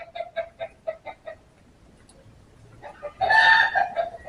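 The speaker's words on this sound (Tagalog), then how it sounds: "Inahing manok naglimlim na." A few short, rhythmic clucks from a brooding hen near the start, followed by a louder, harsher squawking burst from the birds toward the end.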